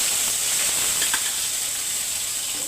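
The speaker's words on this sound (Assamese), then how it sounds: "পিঁয়াজখিনি ভাজি ল'ম" Onions sizzling and frying in a hot pan, a steady broadband hiss holding evenly throughout with a few faint clinks partway through, no voices.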